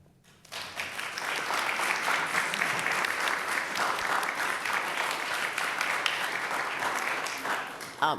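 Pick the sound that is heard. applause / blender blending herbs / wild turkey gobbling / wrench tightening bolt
applause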